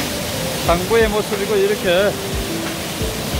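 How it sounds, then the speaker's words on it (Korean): The Second Yongso waterfall in the Deokpung Valley canyon sends out a constant rushing roar beneath someone speaking close to the microphone. "여기서 폐쇄돼서 제2용소 폭포입니다"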